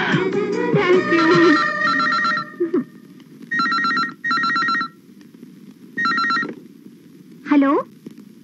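A telephone rings during a birthday celebration in a drama scene, sounding in repeated short electronic bursts separated by pauses, with a voice heard briefly at the start.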